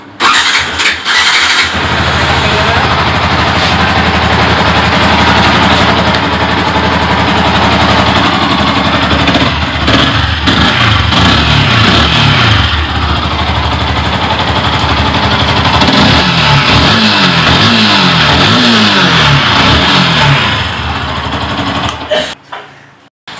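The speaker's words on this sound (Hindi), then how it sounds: "और भाई थोड़ा इसका एग्जॉस्ट सुनाएंगे?" A 2016 Hero Duet scooter's engine starts and revs through its exhaust, a loud close-up buzzing drone with repeated throttle blips that rise and fall before cutting off at the end.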